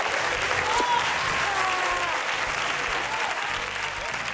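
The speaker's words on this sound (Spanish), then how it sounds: "Un aplauso para los padrinos del programa" Studio audience applause for the godparents of a Spanish television show, a dense, steady roar of many hands clapping throughout, with faint voices and whistles mixed into the crowd.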